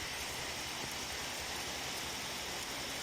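Rain falls steadily as a soft, even hiss of drops. It is faint and continuous, with no voices.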